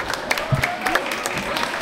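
Audience at a school student council election event claps briefly, a scattered burst of many hands with a faint murmur of voices beneath, moderately close and short.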